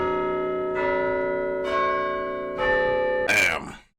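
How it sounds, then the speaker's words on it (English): A bell sound effect struck several times in a row, each hit ringing out with a sustained metallic tone that overlaps the next, ending in a brighter clang that fades out. "smashing that bell."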